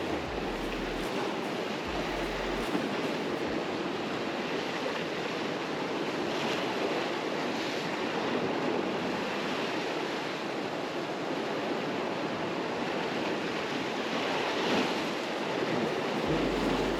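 Ocean surf washes steadily against the shore of Tenerife at a fishing spot, a continuous broad roar with gentle swells and some wind, heard alone with no voices.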